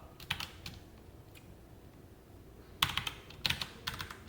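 Computer keyboard being typed on while entering JSP code, with short bursts of quick key clicks separated by quiet pauses, close and fairly soft.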